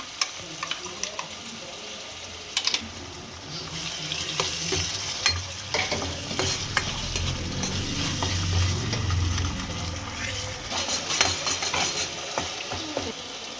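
Four onions fry in a pan with a steady sizzle, broken by spatula scrapes and clinks and a swell of louder frying midway.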